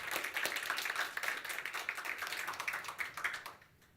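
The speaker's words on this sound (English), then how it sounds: "round of applause" Audience applause following a funding talk at a game developers' conference, a dense spatter of claps lasting nearly four seconds before fading quickly away.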